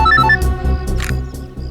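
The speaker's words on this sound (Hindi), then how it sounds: "दया का फोन आ गया।" Telephone ringing in a crime drama scene, with a bright, repeating ringtone melody of short tonal pulses, loud and close, over a low music bed.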